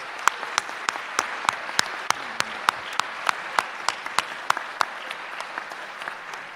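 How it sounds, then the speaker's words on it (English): At a university athletics hall of fame induction ceremony, sparse, evenly spaced claps ring out one after another, sounding like a small number of people clapping slowly rather than a full crowd. "Please join me in a round of applause for my colleagues"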